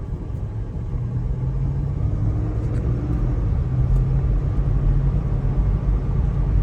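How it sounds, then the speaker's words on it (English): A 264k-mile Oldsmobile Aurora drives along, its engine and road noise forming a steady, fairly loud low rumble that stays even throughout with no talking. "First official drive of the Aurora."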